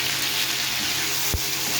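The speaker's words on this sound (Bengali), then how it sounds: "এরকম বন্ধুরা আলুটা ভাজা বসিয়ে দিয়েছি আমি।" Potatoes fry in a pan with a steady, close hiss of sizzling oil that runs the whole time, broken by one sharp crackle partway through.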